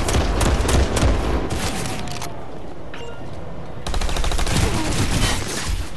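Dense, rapid gunfire from the video game Planetside 2 crackles continuously, with a brief lull midway before another loud volley of shots.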